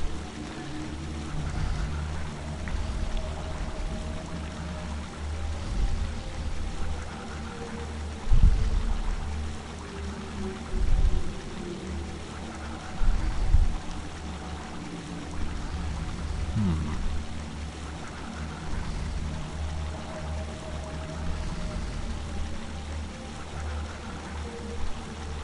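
Water flows steadily in a City of Heroes game level set in the Cascade Archipelago. It keeps up a constant, moderately loud rush, with a few heavier low thumps partway through.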